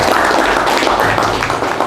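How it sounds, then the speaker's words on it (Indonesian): Classmates applaud a student in a technical classroom lesson, with loud, close and dense clapping filling the whole short moment. "Tepuk tangan dulu untuk teman kalian."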